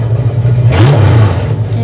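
A restored Chevy Impala muscle car's engine rumbles deep and steady, then swells briefly in one rev before settling back to a throaty idle, with voices faintly mixed in.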